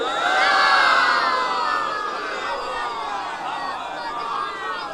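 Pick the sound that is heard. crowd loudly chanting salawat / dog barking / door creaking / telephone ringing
crowd loudly chanting salawat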